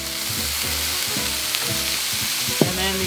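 Chopped, already crispy bacon added to a pan for a Thanksgiving dish, giving a steady loud sizzle and hiss with faint stirring scrapes and a brief clink near the end.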